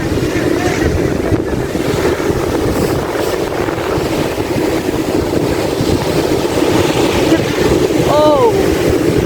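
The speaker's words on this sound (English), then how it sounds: "It's very, very loud. Very, very big waves." Big ocean waves crash loudly at a beach with steady surf roar and strong wind buffeting the microphone throughout; a brief voice is heard near the end.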